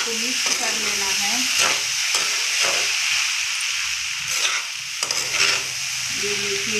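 Poha, the flattened rice soaked until fluffy, being mixed and stirred in a pan so the green, yellow and white bits turn yellow, with a steady sizzle and repeated scraping strokes. Faint tonal sounds sit at the start and end.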